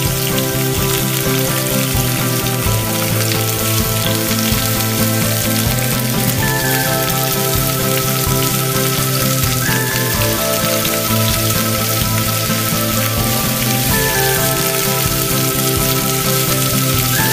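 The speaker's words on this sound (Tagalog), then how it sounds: "Ayan, piniprito natin" Dalagang bukid fish frying in a pan, a steady dense sizzle and crackle of hot oil running without pause, close and fairly loud, with no voices.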